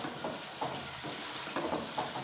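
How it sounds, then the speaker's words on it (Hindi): Potato and carrot for a village-style mixed vegetable dish fry in a pan over a high flame, giving a steady close sizzle broken by several rhythmic stirring scrapes, with no talk. "चूल्हा हाई करें और इसको अच्छी तरह भूनें,"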